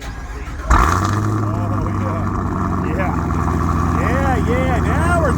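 A Camaro ZL1 Track Pack engine fires up abruptly and settles into a loud, steady, deep exhaust rumble that holds throughout, with a few revs rising over it and people talking nearby.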